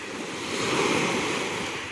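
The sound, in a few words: sea surf on a beach in Sevastopol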